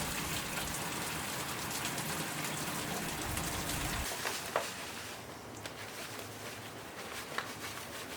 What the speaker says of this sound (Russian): У нас опять поливает дождик. Очень сильный ливень.